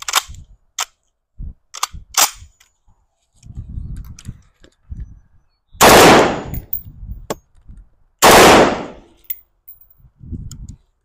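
A Ruger AC556 rifle firing Winchester LC .223 55-grain FMJ ammunition at a range: short bursts of sharp, loud cracks with gaps, then two longer sustained full-auto strings, with no talking.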